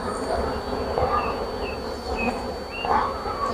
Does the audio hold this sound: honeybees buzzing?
yes